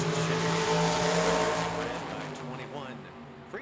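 Corvette with a 650 cubic inch engine drag racing at Tucson Dragway, a loud, roaring engine that fades as the car pulls away down the strip, with an announcer talking over it.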